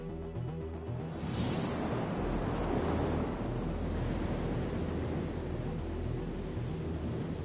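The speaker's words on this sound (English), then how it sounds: "Richard Hammond decided that the start point should be in the middle of the night, close to the bustling city of Cartagena, on a tropical beach." Waves wash onto a tropical beach at night near Cartagena in The Grand Tour Game, a steady rushing surf with a swelling crest early on, fairly quiet with no voices.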